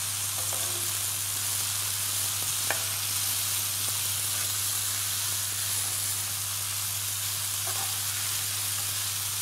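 Spinach cooking down in a pan for a chicken-stuffed crab gratin, a steady broad sizzling hiss with a low hum underneath, a few faint clicks and no talk.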